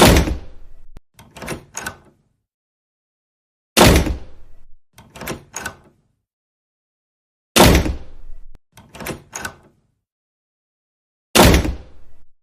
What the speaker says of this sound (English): Now, we're going to slam the door in my dad's office.